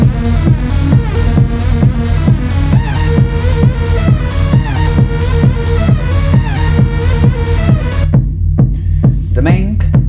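Techno track plays loud and steady with a driving 4/4 kick and layered synths, then drops out near the end to a sparse, fluttering tail.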